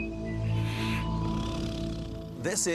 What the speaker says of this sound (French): C'est un ligre parce que son père est un lion et sa mère un tigre.